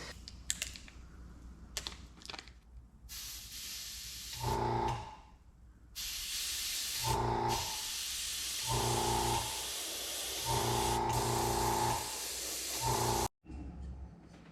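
Airbrush spraying candy paint on a custom motorcycle bobber part, a continuous airy hiss that cuts in and out in long bursts over a low compressor hum, close and steady with no speech.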